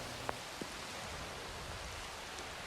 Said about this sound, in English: this rain started about 20 seconds ago